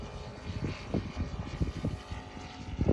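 An Aeroworks Yak 55 model airplane with an ASP 400 radial engine drones past at a distance, its propeller buzz rising and falling in pulses against open-air wind noise, with no voices.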